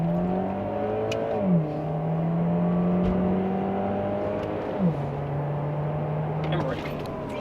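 A Cadillac ATS 2.0T accelerates at full throttle from about 10 to 60, its engine note climbing steadily and dropping at two gear changes, heard from inside the cabin with a steady road roar underneath.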